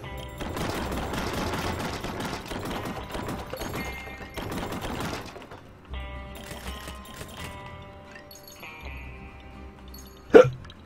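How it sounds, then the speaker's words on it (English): A video game character in Puppeteer hiccups once, a sharp loud burst near the end that follows a busy stretch of game music and effects. "Ugh, hiccups."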